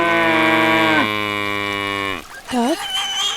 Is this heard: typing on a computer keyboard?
no